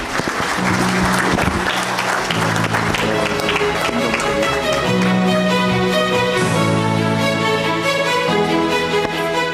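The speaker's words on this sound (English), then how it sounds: "You can also give them a good round of applause." An audience at the Pakistan Energy Symposium applauds in a steady, loud round of clapping that lasts throughout, mixed with sustained background music tones.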